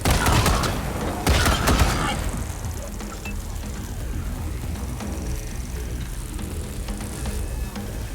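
Wasteland 3 video game combat: a couple of sharp bursts of gunfire crack out early, then fade into a quieter, humming background for the rest of the stretch.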